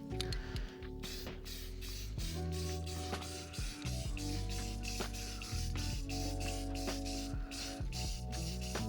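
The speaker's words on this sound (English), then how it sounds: "This paint sprays like it's 40 degrees out here too." Spray paint can hissing in repeated short bursts, each spray lasting about half a second to a second with brief gaps, close and fairly quiet.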